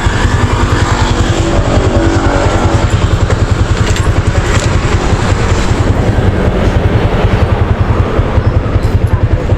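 Motorcycle engine running steadily and loud at close range, a rapid even putter throughout with slight rise in roar, no break in the idle-like pulsing.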